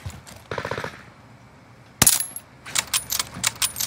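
Video game gunfire: a quick burst of rapid shots near the start, then one sharp loud blast at the two-second mark followed by a run of crisp, clicking shots, fairly close and clear with no talk.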